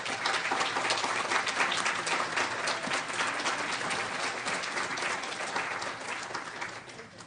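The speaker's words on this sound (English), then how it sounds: "please stand for a round of applause." Sustained applause from an audience at a long-term care awards ceremony continues evenly for several seconds before beginning to taper off near the end.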